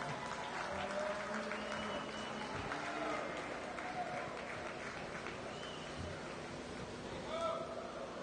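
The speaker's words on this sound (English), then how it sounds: "Let's give that young man a nice round of applause." A crowd at a youth livestock show gives faint, steady applause for a champion heifer, heard from a distance in a large arena, with a voice talking over it.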